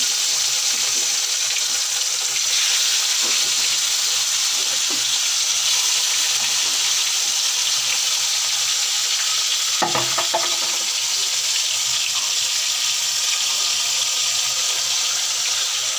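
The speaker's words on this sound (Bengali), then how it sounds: "গরম হয়ে গেছে, মাংসগুলো লাল লাল করে ভেজে নেব।" Chicken pieces frying in a pan with turmeric and salt, a continuous loud hiss of sizzling oil with occasional stirring scrapes and one sharp clatter midway, no talking.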